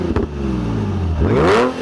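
A Nissan 350Z with a Borla exhaust revving outside the car, a short blip followed by a rising, rasping rev that climbs near and loud, with a popping note.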